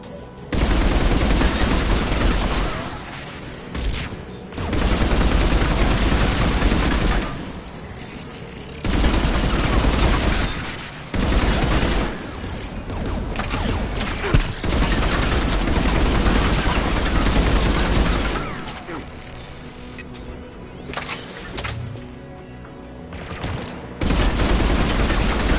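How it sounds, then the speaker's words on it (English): Anti-aircraft guns in Mass Effect pounding out long sustained barrages, dense loud bursts of fire broken by brief lulls, with a low engine rumble beneath. "There, the anti-aircraft guns."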